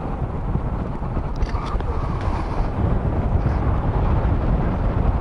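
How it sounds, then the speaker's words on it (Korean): Steady broadband wind rumble buffeting the microphone on a motorcycle trip arriving at the Janghang Skywalk, loud and constant throughout, with no clear voices. "바람 소리가 많이 들리죠"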